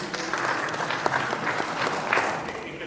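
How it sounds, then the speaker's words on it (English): Seated audience at a publishing event breaks into applause, steady clapping from many hands at moderate distance, fairly soft and even throughout the short burst. "Can we give a great round of applause, please?"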